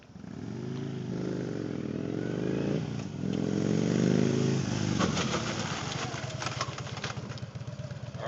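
A Harley-Davidson motorcycle engine runs close by, its steady mid-pitched rumble shifting in tone as the bike slows under ABS braking on gravel, followed by crunching, scattered gravel noise toward the end.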